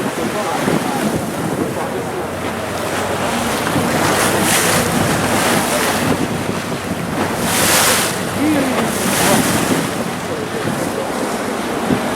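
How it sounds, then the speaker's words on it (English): Constant roar of wind and rough water with periodic surges of spray from a boat leaving a small port in Italy over choppy sea; loud, unbroken noise throughout. "That boat's on its way out."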